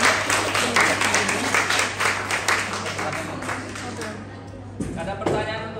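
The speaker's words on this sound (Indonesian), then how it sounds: "Tepuk tangan." Group applause in a basic life support choking training session, a rhythmic run of claps that gradually thins and fades, with a low steady hum underneath and some rustling and movement at the end.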